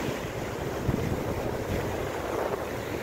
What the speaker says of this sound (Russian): Вау, волны вообще.